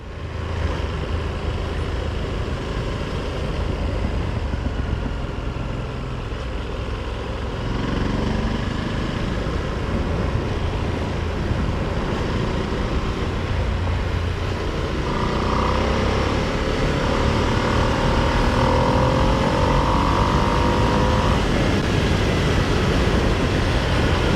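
A 2025 Ducati Streetfighter V2s motorcycle rides along a back road, its engine a steady, continuous drone mixed with wind rush, fairly loud and unbroken, without speech.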